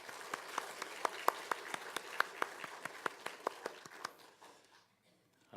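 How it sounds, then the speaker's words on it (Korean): A church congregation at a Korean Sunday worship service claps together in a steady, unison rhythm, with sharp, evenly spaced claps that carry on for several seconds before trailing off into quiet. "우리 하나님께 감사의 박수 올리겠습니다."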